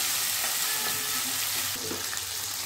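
Gongura leaves and tomatoes fry in oil for gongura pachadi, a close, even sizzle with light stirring clinks and no voices.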